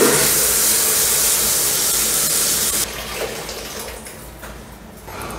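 Water rushes steadily from an opened household tap as pressure is released during a washing machine installation, a broad hiss that drops to a quieter, uneven flow halfway through.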